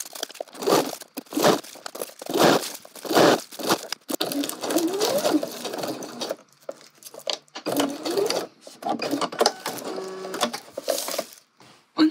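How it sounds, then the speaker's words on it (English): A sewing machine stitching a garment facing along a marked line, running in repeated bursts with short pauses, close and clear with no talking. "press your foot down and carry on stitching along the line that we've marked"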